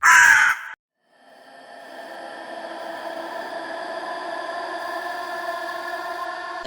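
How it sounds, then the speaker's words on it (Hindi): A single loud, harsh caw sounds at the very start, then gives way to a steady tonal hum. "कौवे ने एक बार काव किया, फिर दूसरी बार और फिर तीसरी बार।"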